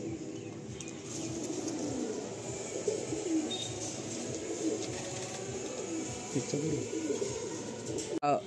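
Tournament-flying Madrasi pigeons coo softly in their loft, quiet rolling calls mixed with a little wing movement, while people talk nearby.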